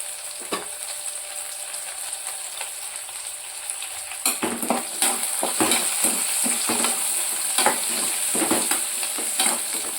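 Chicken fries in a pan with curry leaves. A quieter sizzle with a few clicks suddenly grows louder and busier, full of spattering crackle and repeated metallic stirring scrapes against the pan, with no talking.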